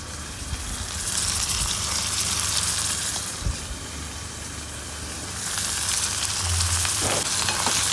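Cherry tomatoes sizzling in a hot pan while being stirred, a steady bubbling fry that swells and dips as a utensil moves them around, with an occasional scrape against the pan.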